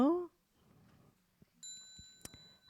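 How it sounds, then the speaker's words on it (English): A small bell struck once during a Buddhist ceremony rings out clear and sustained, with a second brighter strike following, after a brief spoken instruction and some quiet shuffling. "On the next sound of the bell,"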